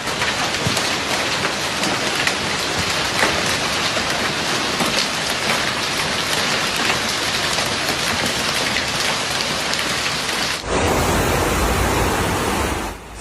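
A golf ball-sized hailstorm in Italy pours down as a dense, steady roar of ice hitting surfaces, loud and continuous with no voices, changing character abruptly near the end.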